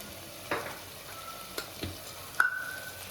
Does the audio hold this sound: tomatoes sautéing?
yes